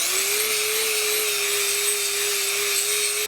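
A power grinder works steadily on rusty steel trailer beams, a continuous high-pitched whine with a sustained tonal hum, loud and close, running without pause for a few seconds.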